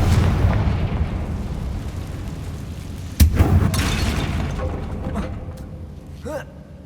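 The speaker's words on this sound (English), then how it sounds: "Confringo." An explosion spell blasting in the video game Hogwarts Legacy, a sudden sharp bang followed by a rolling, booming rumble that fades, with brief voice sounds.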